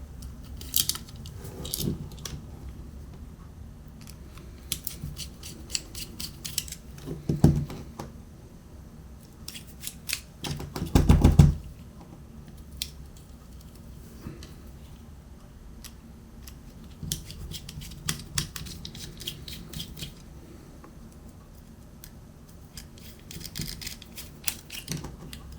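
Small screws being undone from the casing of a DER EE DE-5000 LCR meter, heard as scattered close clicks, ticks and metallic scrapes with a louder cluster of handling noise midway, no talking.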